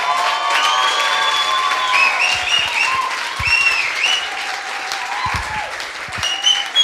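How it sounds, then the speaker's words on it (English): Sustained round of applause from a crowd at a coding bootcamp demo day in Lisbon, steady dense clapping with a few whoops and shouts on top, lasting throughout at strong volume. "Try to calibrate it to be the second biggest round of applause for Shannon."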